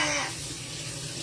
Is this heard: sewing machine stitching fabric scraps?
no